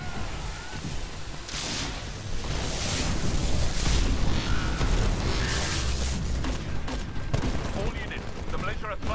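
Rapid bursts of gunfire from an amped smart pistol in the video game Titanfall ring out over a dense, loud layer of battle noise and booms, with no letup across the stretch.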